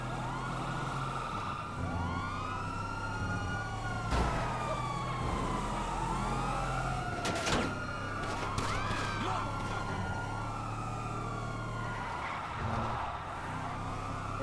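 Several wailing sirens in GTA Online rise and fall over one another, continuous and loud, with a low rumbling drone underneath and a few sharp bursts.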